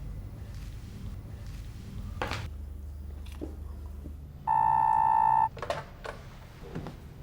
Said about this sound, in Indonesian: Saya akan telepon Benny.